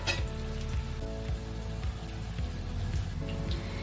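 Batch of poha cutlets deep-frying in hot oil, giving a continuous close crackling sizzle with small bubbling pops throughout and no voices.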